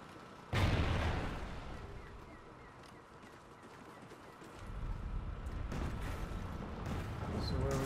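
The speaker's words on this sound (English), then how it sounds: "Lay down suppressing fire" Bursts of suppressing gunfire in the Call of Duty: Ghosts video game, a heavy blast near the start, then a quieter stretch and renewed rumbling fire toward the end, with battlefield ambience throughout.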